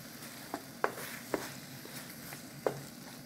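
Korean spicy chicken bubbles and sizzles in a pan while being stirred, with soft steady frying under several sharp clacks of a utensil against the pan, no one speaking.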